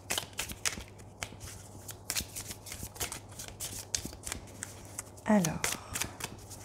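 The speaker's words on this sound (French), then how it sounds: "j'avais besoin, de bien battre ce jeu avant de prendre les cartes." A deck of tarot cards is shuffled by hand in a series of quick, crisp riffling flicks and slaps close by, with a brief spoken word partway through.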